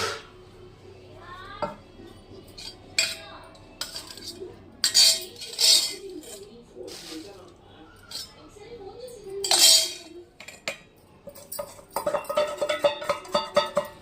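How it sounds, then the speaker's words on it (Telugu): Boiled cauliflower pieces mixed into batter in a bowl for curry-point-style Gobi 65, with intermittent clinks and scrapes of a metal spoon against the bowl and wet stirring, while a person talks throughout. "ఆ ఉడకబెట్టిన ముక్కలు ఆ పిండిలో వేసి కలుపుకోవాలి."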